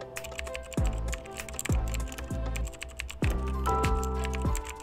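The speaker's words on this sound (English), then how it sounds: "If we get close enough, we should be able to start" Typing sound effect triggered in a Unity game: a steady run of quick keyboard key clicks over a layer of tonal music that shifts in bursts, with no talk.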